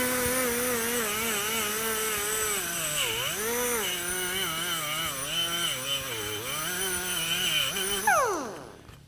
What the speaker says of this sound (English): I'm using a soft stainless steel wire brush so that you don't introduce any contaminants into the stainless steel